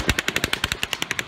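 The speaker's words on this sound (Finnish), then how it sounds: "tällä videolla ammunnan äänet kuulostaa siltä, niin kuin ne tulisi eri suunnilta" Gunshots from a filmed shooting ring out in a rapid, evenly spaced burst of about a dozen sharp cracks, loud and close, with no talk over them.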